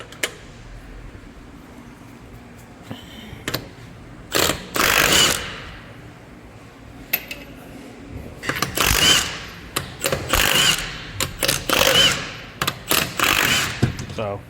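Milwaukee M18 Fuel 1/2-inch mid-torque impact wrench taking 22 mm lug nuts off a Honda wheel, giving several loud bursts of rapid hammering rattle between quieter stretches, with speech in between.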